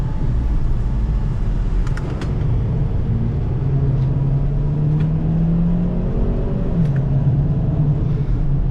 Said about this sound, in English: The louder exhaust of the GE definitely adds a lot more drama to the experience